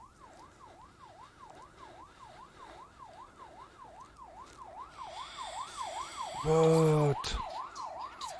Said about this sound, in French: Pourquoi j'entends une sirène de police?